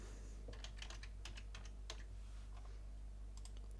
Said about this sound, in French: je vais taper Regedit.